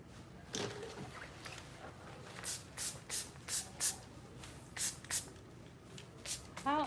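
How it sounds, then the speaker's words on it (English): A spray bottle of leave-in conditioner fires a series of quick, crisp spritzes close by, about a dozen short bursts in an uneven rhythm. "So we're going to spray on some leave-in conditioner."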